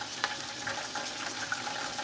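Chicken breast halves hit a hot pan and settle into a soft, steady sizzle with light crackles, heard up close with no talking.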